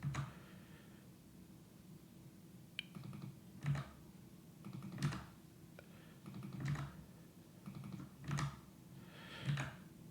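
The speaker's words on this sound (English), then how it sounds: "Then we just have to type in the correct column names." Fingers typing on a computer keyboard during live coding, bursts of quiet key clicks and taps scattered through the stretch with brief pauses between, close but soft over a faint steady hum, no talking.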